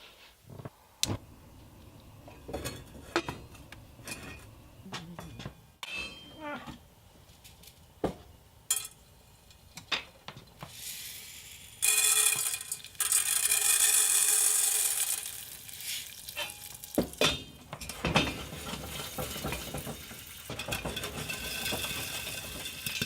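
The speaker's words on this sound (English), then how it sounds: "Seems to be popping." Homegrown popcorn popping in hot oil in a pot, sparse sharp pops at first that build into a sizzling, crackling run of frequent bursts, close and fairly loud, with no talking.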